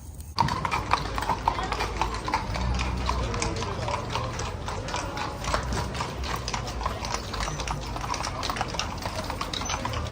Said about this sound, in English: a whole line of horses, probably 60, 70 horses and buggies lined up